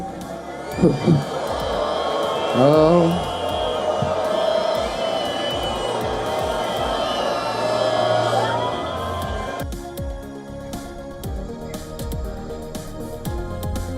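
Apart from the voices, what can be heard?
crowd cheering at a rally in Tel Aviv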